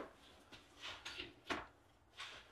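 Several quiet wooden knocks and slides from a small garage workshop drawer being pulled open and pushed shut, spaced irregularly with one sharper thump near the middle, no voices.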